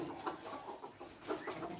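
Caged Gold and Porcelain Sabelpoot bantam chickens give soft, quiet clucks, a few short low calls spaced irregularly over a faint background, with no talking.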